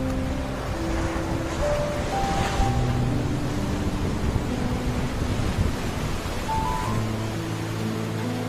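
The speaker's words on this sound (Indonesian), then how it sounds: "Ombaknya tidak terlalu ganas karena terhalang oleh pulau di lepas pantainya." Gentle ocean waves wash onto the white-sand shore at Jembatan Panjang beach in South Malang, where an offshore island shelters the surf, forming a continuous broad wash mixed with wind noise and faint tonal hums.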